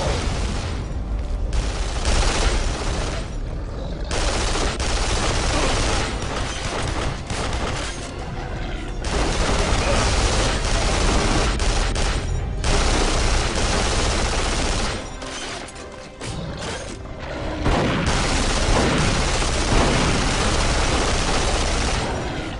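Sustained gunfire from a weapon in the Duke Nukem Forever video game, loud and nearly continuous bursts with booming impacts and brief lulls, no talk over it.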